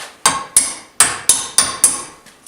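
Hammer blows ring out on an exhaust pipe hanger under a VW Jetta MKIV, six sharp metallic strikes at a steady rhythm, loud and close, with no talk.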